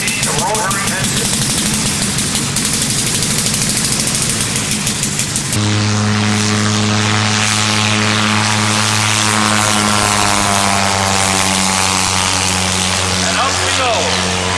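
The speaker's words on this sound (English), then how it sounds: "This is an original 1918 rotary engine." A World War 1 fighter plane with an original 1918 rotary engine takes off at an airshow in Rhinebeck, NY. Broad rushing noise gives way midway to a loud, steady, close engine drone that holds to the end.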